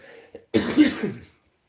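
A single rough cough from a man recovering from a cold, close and sharp, preceded by a small throat sound, then silence.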